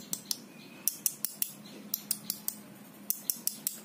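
A DMK Beach Comber baitcasting reel's metal body tapped repeatedly, giving a string of sharp, bright metallic clicks in an irregular rhythm, close and clear against a quiet background.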